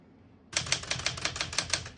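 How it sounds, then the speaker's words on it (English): Keys of a 1977 Smith-Corona Classic 12 portable typewriter clack in a quick, steady run of about a dozen sharp strikes, close and crisp after a short quiet lead-in. "all the keys type nice and none of them skip or stick"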